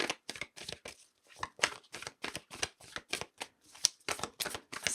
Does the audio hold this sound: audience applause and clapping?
no